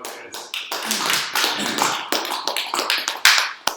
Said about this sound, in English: I think there's another round of applause